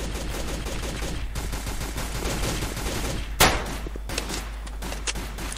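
Rapid gunfire in the shooter Combat Reloaded 2, a steady stream of close automatic shots with one louder crack standing out midway, continuing throughout.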